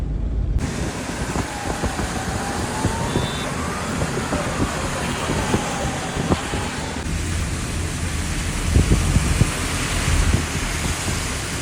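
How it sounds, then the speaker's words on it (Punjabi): Heavy rain pouring outside a mall, a dense continuous roar of rainfall mixed with passing traffic and wind gusts, a brief tone and louder rumbles near the end. "ਮਾਲ ਚੋਂ ਬਾਹਰ ਆ ਗਏ ਆ ਤੇ ਬਾਰਿਸ਼ ਬਹੁਤ ਤੇਜ਼ ਹੋ ਗਈ ਆ"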